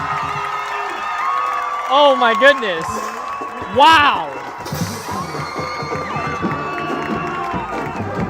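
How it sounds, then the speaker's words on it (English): Spectators at a high school football game, Bonita at Muir, cheer and whoop loudly as the Mustangs run out the clock, with excited shouts peaking twice over a sustained crowd roar while someone talks over it. "And this crowd is going nuts."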